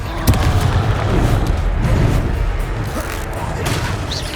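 Fiery blasts from the Confringo explosion spell in the Hogwarts Legacy video game, a sustained rumbling barrage of booms with a sharp crack near the start, loud and continuous throughout.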